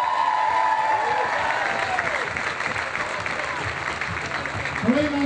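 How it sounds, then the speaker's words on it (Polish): Crowd applause at an outdoor celebration in a Polish town square honoring a championship-winning women's basketball team, steady clapping throughout under an announcer's amplified voice. "Laja Palau, wielkie brawa."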